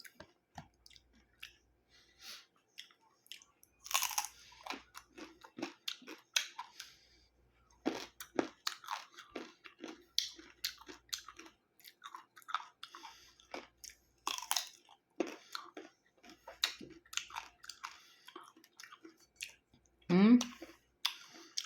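Crunchy bites and chewing of unripe green mango, eaten with dried fish and sugar. Sharp crunches and wet squishy mouth sounds come close and irregular, with occasional quiet talk in between.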